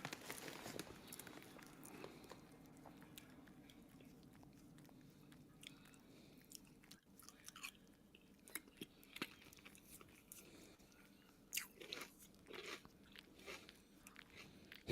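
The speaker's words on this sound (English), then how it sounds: "Can you hear me chewing this far back from the mic?" A person chews and bites food some distance from the microphone, producing soft crunching and wet chewing sounds that come in irregular bursts through most of the stretch, with a few sharper crunches near the end.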